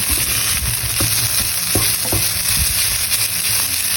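Salmon pieces fry in a hot pan with a steady, loud sizzle, broken by a few soft clicks of stirring or handling, with no voices.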